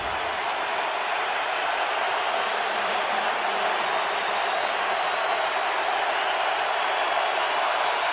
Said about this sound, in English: Crowd really into it as the Patriots start this drive from their own 20-yard line